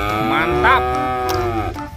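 A horned buffalo lets out a loud, close moo that rises and then holds steady for about two seconds before trailing off, heard alone.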